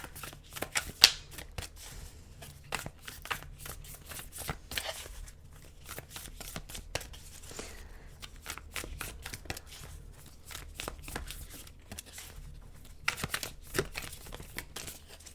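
Tarot cards are shuffled and drawn in rapid riffling bursts and soft flicks, close and fairly quiet, with brief pauses between the papery shuffles and no speech.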